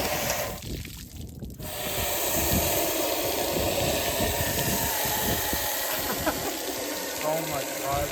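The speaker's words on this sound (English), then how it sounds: "we're giving it a quick wash to get out all of the loose debris in the motor for the machine shop" A BBC 496 engine block is washed out to clear loose debris, with a loud continuous rush of spraying water and hiss that rises after a brief pause and runs on steadily.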